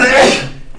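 A single sharp sneeze bursts out close by, loud and breathy, then quickly fades.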